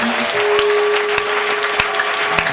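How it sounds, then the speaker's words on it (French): A church congregation applauds loudly and steadily for the Lord, a dense wash of clapping with a few sharper claps standing out and a faint sustained tone running underneath. "Acclamez très fort pour le Seigneur Jésus"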